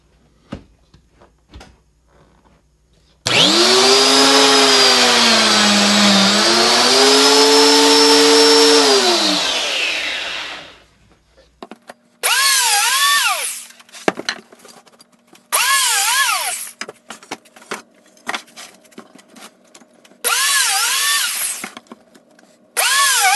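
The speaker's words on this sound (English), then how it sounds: "we're just going to go through and start drilling holes" A power drill whirs loudly for several seconds, then bores holes in wooden boards in short repeated bursts with rising and falling pitch, separated by brief pauses and clatter.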